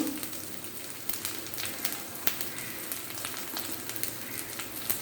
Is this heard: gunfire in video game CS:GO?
no